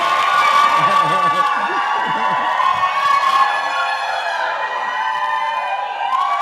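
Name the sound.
crowd cheering at political event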